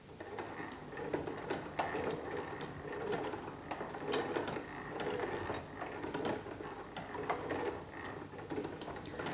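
A Bryan Donkin geometric lathe runs with its cam-driven arm moving, giving a soft, rhythmic mechanical ticking and ratcheting of gears in a steady repeating cycle, fairly quiet and with no voices.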